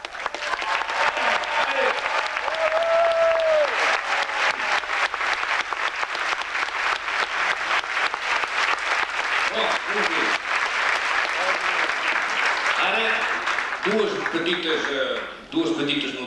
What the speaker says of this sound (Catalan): anem a fer una ovació, a fer petar les parets de la sala